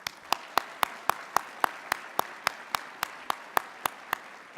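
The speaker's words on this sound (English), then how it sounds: "Let's give G another great round of applause." Rhythmic clapping at a transit event, about fifteen evenly spaced sharp claps standing out over a softer background, close and fairly loud with no talk.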